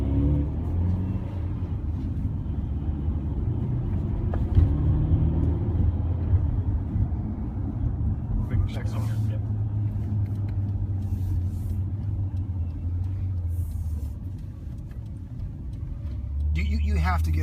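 A Ferrari on a test drive, heard from inside as a steady low engine and road rumble running throughout, with people talking over it.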